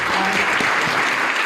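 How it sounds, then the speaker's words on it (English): Dense crowd applause at a startup pitch day in Palo Alto, loud and close, filling the whole short stretch evenly without speech. "Round of applause."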